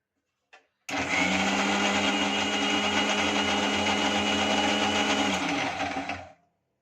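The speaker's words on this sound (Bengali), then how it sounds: "এবার মিক্সার জারটা বন্ধ করে আমি একটা গ্রাইন্ডারে গ্রাইন্ড করে নেব" A mixer grinder purees strawberries with half a cup of sugar in its jar. The motor starts abruptly, whirs loud and steady for about five seconds, then spins down and stops.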